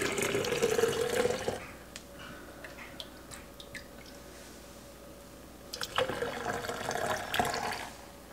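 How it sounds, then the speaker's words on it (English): Milk for homemade yogurt is dipped and poured into a jar, giving a steady liquid splashing and gurgle that pauses briefly, with a few drips and clinks, then resumes. "I'm going to use a dipper to dip it out and pour it in."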